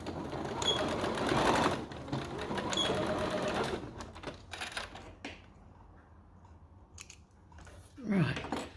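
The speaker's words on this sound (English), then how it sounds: "Now I don't want that to fray, so I'll just run another lot of stitching in there" A sewing machine stitches a second seam on a little girl's dress, running in a few steady bursts with short pauses and quiet handling between them.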